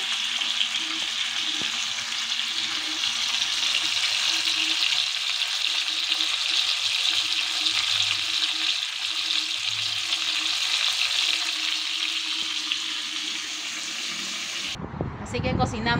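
Chicken pieces for seco de pollo sear in a pan, four at a time, in an outdoor kitchen by the sea: a steady, close, loud sizzle runs throughout, with a faint voice underneath, and the frying cuts off near the end.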